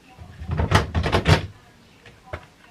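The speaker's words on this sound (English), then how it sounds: "the drawer's broken" A broken bedroom drawer is yanked and jostled, giving a cluster of loud rattling, thudding bursts up close, then a quieter pause and one last short knock.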